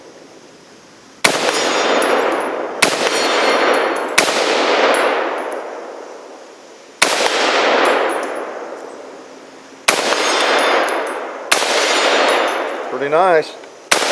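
A rifle is emptied through its magazine outdoors: about seven loud, sharp reports come at uneven intervals, each trailing a long ringing decay. A brief spoken remark follows near the end.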